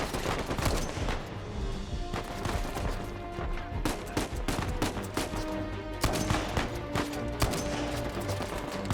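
Semi-automatic rifle fire in Uncharted 4 cracks out in repeated sharp shots, some in quick clusters, loud and close over a busy backdrop of other gunfire.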